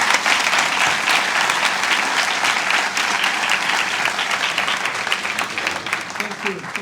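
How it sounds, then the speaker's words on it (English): An audience applauds warmly after an economic diplomacy lecture at the Gokhale institute, a dense sustained clapping that holds steady and slowly thins toward the end. "please join me in giving a very warm applause to his contribution"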